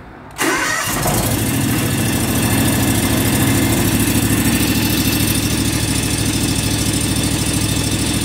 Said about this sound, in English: we're going to give it a little fire up here, see if there's any difference or not.